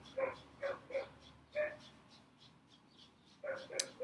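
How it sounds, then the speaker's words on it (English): A dog lets out a series of short, high-pitched excited barks in quick bursts, pausing briefly before yapping again. "she's barking her head off because she's very excited"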